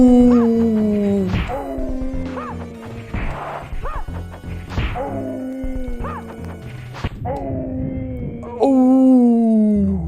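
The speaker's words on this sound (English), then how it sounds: "It's like a dog howling or something." Howl-like victory cry from the Mortal Kombat 2 video game on SNES, a series of loud, wavering, pitch-sliding wails repeated several times with sharp impact hits between them.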